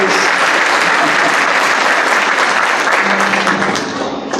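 Congregation applauding in a church service, loud sustained clapping from many people filling the room, with a faint hum of voices beneath and a slight fade near the end.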